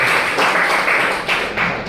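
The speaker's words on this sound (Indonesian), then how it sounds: "Tepuk tangan Bapak Arman Maulana." An audience applauding at a business presentation, a steady wash of many hands clapping, fairly loud and close, with no talking over it.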